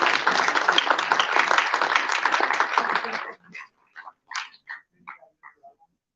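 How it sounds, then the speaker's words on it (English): Applause from a sustainability congress audience at a hotel-management institute in Delhi, dense clapping for about three seconds that breaks off into a few scattered claps and faint sounds. "Big round of applause for Professor Peter Jones, please"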